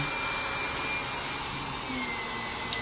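A Miele vacuum cleaner runs with a miniature turbo tool held off the floor, giving a loud, constant whine and airflow roar throughout.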